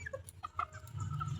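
White Leghorn hens cluck softly in short, scattered calls close by over low background noise, while the birds feed on banana.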